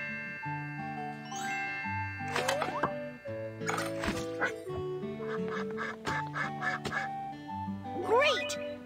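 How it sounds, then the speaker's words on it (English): A cartoon duck in a pet care video game quacks repeatedly in short bursts amid playful game sound effects and music, with a narrator talking throughout. "Great! The duck is clean and healthy now."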